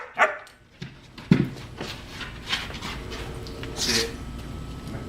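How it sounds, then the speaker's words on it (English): A dog gives a few scattered barks and yips, fairly close, with quiet gaps between them. "a lot of the barking to get what she wants"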